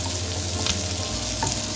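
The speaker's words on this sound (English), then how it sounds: "So you just give it a good stir." Paneer cubes stir-fried in sesame oil give off a steady, close sizzle, with a few soft scrapes as the mixture is stirred in the pan.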